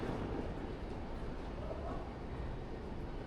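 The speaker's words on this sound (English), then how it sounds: "So again, as you can see, super clean metro station here." Metro train rumbling through a clean station on line 1 of the Panama City metro, a steady broadband roar with low rattling that holds evenly for the whole stretch, with no voices.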